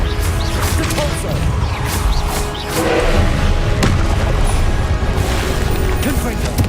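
Depulso spell impacts in Hogwarts Legacy, a series of heavy booms and crashing thuds in the middle of dense combat noise, with speech over the top.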